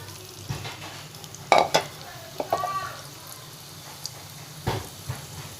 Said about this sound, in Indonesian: kita goreng kembali kentang yang sudah setengah matang tadi